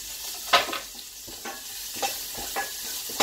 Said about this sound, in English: Let's see how we're getting a real sizzle going on.